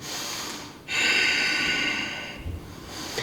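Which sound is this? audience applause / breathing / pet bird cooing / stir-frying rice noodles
breathing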